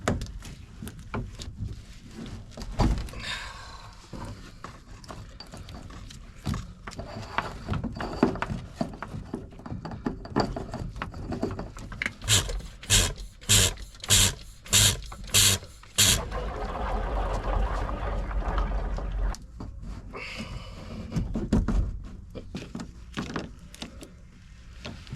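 An old boat engine on a restoration project cranks repeatedly without catching, a series of rhythmic mechanical bursts with pauses between tries, moderately loud and close, no talking.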